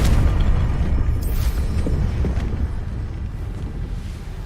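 Confringo explosive spell cast in Hogwarts Legacy, a heavy low rumbling boom that rolls on and slowly fades, loud and close with no speech.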